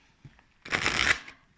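A short riffle of tarot cards being shuffled by hand, a single crisp flutter lasting about half a second, heard close and alone after a faint tap.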